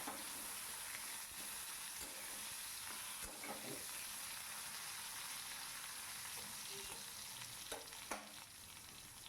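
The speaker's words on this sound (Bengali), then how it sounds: "আলুর মধ্যে নুন হলুদ মাখিয়ে রেখেছিলাম আলুগুলোকেও ভেজে নিচ্ছি" Potatoes coated in salt and turmeric fry in hot oil in a pan, giving a steady, even sizzle for several seconds with a few soft stirring knocks and no talking.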